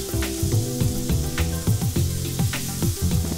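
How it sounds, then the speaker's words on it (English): A steak sears in a hot pan with a steady sizzle and spatter, while musical tones with a rhythmic beat play over it and no one speaks. "I'm turning the steak, getting a beautiful sear."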